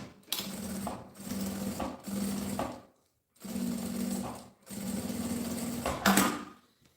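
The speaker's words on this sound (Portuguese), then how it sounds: "a gente só levanta e passa aqui uma costurinha rebatendo" Sewing machine topstitching a fabric handbag in several short, close bursts separated by brief pauses, a rapid mechanical whir alone without speech.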